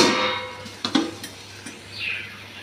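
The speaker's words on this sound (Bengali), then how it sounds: "এখন একটু ঢাকা দিয়ে রাখছি।" A lid set onto a pot of mango chutney in a home kitchen: a few light metallic clinks and a short scrape, fairly close, with faint kitchen background and no talk.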